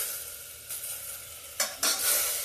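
Chopped tomatoes hit hot oil in a cooking pan, setting off a steady sizzle that flares into two loud bursts as more pieces go in, with no talking.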